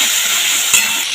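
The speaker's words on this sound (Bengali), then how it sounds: "এবার ভালো করে ভেজে নেব।" Vegetable pieces with salt and turmeric fry in a pan of oil, giving a steady, close hissing sizzle with a brief soft clatter near the end.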